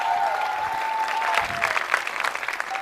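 Applause for Akhtar, Suhail and Uzair at the grand finale of the Mountain Dew Living On The Edge competition, a crowd clapping steadily and loudly with a faint tone underneath.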